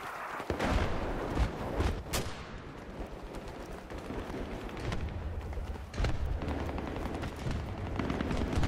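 Thudding mortar blasts and scattered gunfire from a shooter video game pound a capture point, several heavy impacts spread across the clip over a noisy battlefield background.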